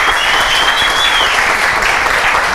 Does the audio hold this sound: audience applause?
yes